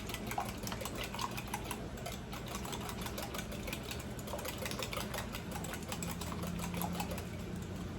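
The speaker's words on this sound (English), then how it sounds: "I'm just gonna put the mixer on for a second and whisk this all together" Electric mixer whisks milk and eggs for biscuit dough, a steady buzzing motor whir with rapid rattling beats running evenly for the whole stretch, no voices.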